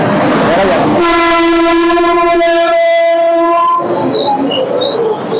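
A loud train horn blares steadily for several seconds as the Gangasagar Express rushes through a station close by, its rumble continuing after the horn stops.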